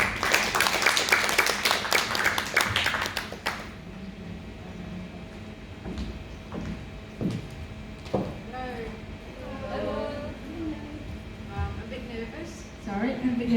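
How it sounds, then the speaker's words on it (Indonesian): A church congregation claps loudly and briefly for a few seconds, then the applause stops and quieter room sounds and scattered voices follow. "Kasih tepuk tangan dong"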